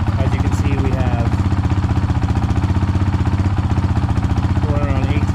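A Honda CRF450RL motorcycle engine idles at about 1800 to 1900 RPM, producing a loud, close, rapid, even putter that pulses steadily throughout.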